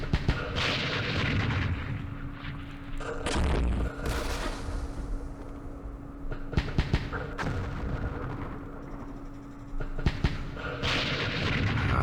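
Mortar fire in the Campaign Series Vietnam war game: a few booming blasts and thuds over a steady hum, repeated across the stretch at moderate loudness.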